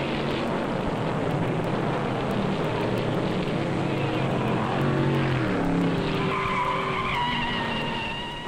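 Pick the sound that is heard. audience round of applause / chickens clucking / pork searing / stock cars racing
stock cars racing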